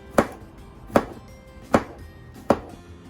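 A kitchen knife mincing garlic on a cutting board gives four sharp, evenly spaced chops, close and clear with short quiet gaps between strikes.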